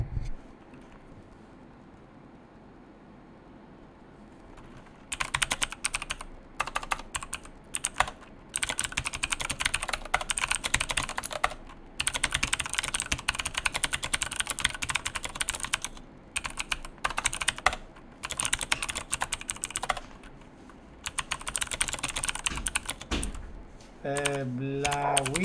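Fingers type on a computer keyboard in rapid bursts of clicking keys, with pauses between runs, close and fairly loud over a low background hum.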